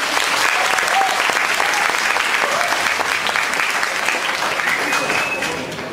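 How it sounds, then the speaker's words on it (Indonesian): Loud, dense audience applause welcoming Gita Wirjawan, a former PBSI chairman, onto the stage at a young leaders' talk show. Clapping is steady for about six seconds and eases off slightly at the end. "Kita panggil saja dengan aplaus yang mulia Pak Gita Wiryawan"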